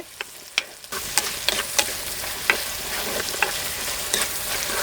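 Chopped onion pieces frying in hot oil until brown, giving a loud continuous sizzle close up, broken by repeated scraping stirs with a spoon, no voices.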